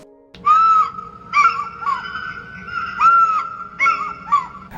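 A series of bright electronic whistling chirps from a GoGo Bird Eagle toy drone controller's bottom right button, repeated in short bursts about five times with brief gaps, loud and close.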